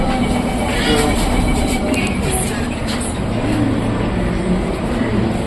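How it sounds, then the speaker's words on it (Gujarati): A metro train running, heard from inside the carriage as a steady, loud rumble and hiss that lasts throughout, with faint voices mixed in. "મેટ્રો"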